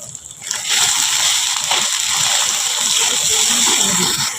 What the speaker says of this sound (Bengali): মশলা কিন্তু কষানোর পরে হালকা একটু পানি দিয়ে দিব